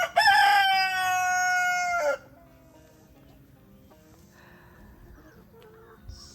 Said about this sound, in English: There is a chicken on the wrong side of the fence.